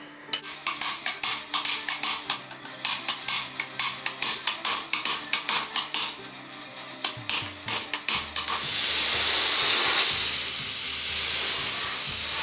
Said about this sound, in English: We treat them in hot oil to give them this black look, and then heat them up again to shrink them onto the hubs themselves